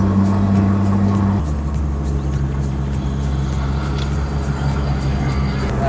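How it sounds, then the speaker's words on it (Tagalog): Heavy trucks grind uphill on a winding mountain road at an overview in Quezon, Bukidnon, their engines droning low and steady close by, with a gear shift and shifting pitch early on, amid open-air traffic and wind. "Gumagapang talaga yung mga truck na paakyat."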